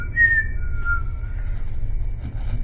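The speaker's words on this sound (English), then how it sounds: "maybe he doesn't like it when you whistle" A single person whistles two brief notes over a steady low rumble, faint and outdoors, followed by background hiss.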